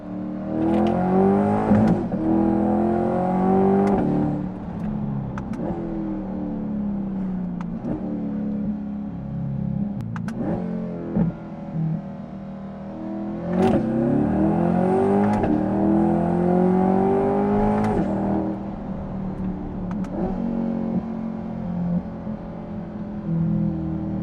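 A C8 Corvette fitted with a Valvetronic Designs titanium catback exhaust revs hard in repeated loud bursts, each rising and falling, with the convertible's back window open and no talking.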